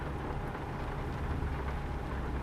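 Rain falling in a racing video game set in Illinois, a steady, dense wash of broadband patter with a low rumble underneath, continuous and fairly loud with no talking.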